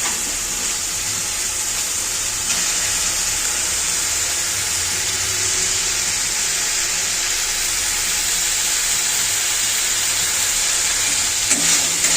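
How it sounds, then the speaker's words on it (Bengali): Continuous, even sizzling of a spice paste frying in a pan with a little water, a close hiss that holds steady throughout with faint stirring. "এটাতে একটু জল দিয়ে ভালো করে ভেজে নেবো মশলাটাকে"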